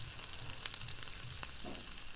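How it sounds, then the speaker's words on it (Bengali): Potatoes, green chillies and tomato frying in oil, a soft continuous sizzle with a few light stirring clicks, quiet and close with no talking. "এই দেখো, ভাজা প্রায় হয়ে যাচ্ছে, লাল লাল করে ভেজে নিচ্ছে।"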